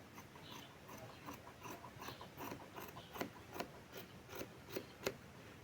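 Scissors trim shirt collar fabric at a tailor's work, producing a quick run of soft, rhythmic snips that grow slightly crisper toward the end, faint and close with no talking.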